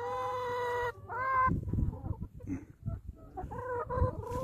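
Backyard chickens give a drawn-out, tonal squawk, then a run of close, uneven clucks and short calls overlapping in quick succession.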